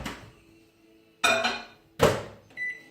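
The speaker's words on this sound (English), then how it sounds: "just throw it in the microwave and get it all heated up again." Clunks and bangs of a microwave oven being used to heat butter come close and loud, with a door thud and a short beep between quieter stretches.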